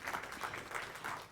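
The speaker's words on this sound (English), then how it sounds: "Yeah, that's a good place to clap right there." Faint, brief audience applause, a soft scattered patter of hands from a crowd heard at a distance, with no talk over it.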